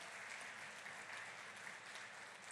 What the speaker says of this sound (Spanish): ¿Por qué no le das un fuerte aplauso a Cristo Jesús?